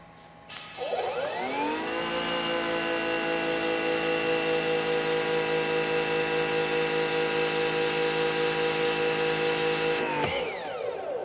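An EGO 56V battery-powered pressure washer rated 3200 PSI and 1.2 GPM, running in turbo mode: the motor spins up to a loud, steady high-pitched whine that holds evenly for about eight seconds, then winds down abruptly.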